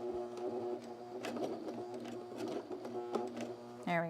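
A sewing machine stitches cargo pants with a fast, even mechanical whir that pauses and restarts briefly, heard close, with a voice speaking at the very end.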